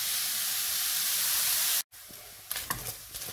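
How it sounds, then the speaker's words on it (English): Minced lamb frying and searing in a pan: a steady, loud broadband sizzle and hiss that cuts out briefly, then returns quieter with a few soft clatters. "to fry this until it's browning"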